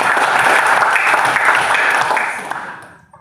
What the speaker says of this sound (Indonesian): kelompok yang lain ya, berikan aplaus